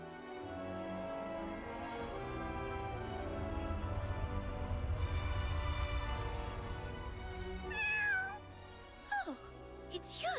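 A small cat in the video game Duet Night Abyss gives two or three short, rising-and-falling meows near the end, close and clear over a steady background hum.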